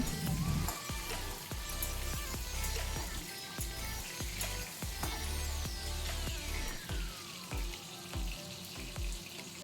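Tomato quarters fry in a pan while preparing a vegetarian soybean dumpling dish, giving a steady sizzle with scattered clinks and scrapes of utensils throughout, close and fairly loud.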